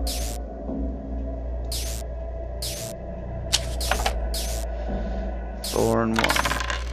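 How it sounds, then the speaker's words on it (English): Dice clatter and tumble in the board video game Unlikely, several short sharp bursts of rattling spaced across the stretch with a louder cluster near the end, over a steady low hum and soft background sound. "Now I roll the dice."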